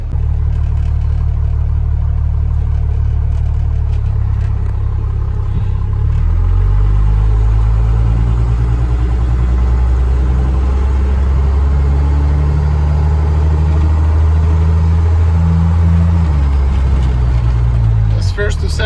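A vehicle with a 47RH automatic transmission with erratic shifting, being test driven: a loud, steady engine drone whose low pitch rises and falls as it accelerates and shifts. Road rumble runs throughout, and a voice talks over it.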